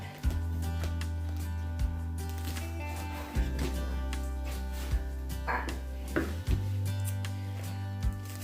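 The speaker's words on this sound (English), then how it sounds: "I have cleaned this romaine lettuce, and I'm going to cut it up" A kitchen knife slicing cleaned, damp romaine lettuce on a cutting board, with a string of close, sharp chopping thuds at irregular intervals over a steady low hum.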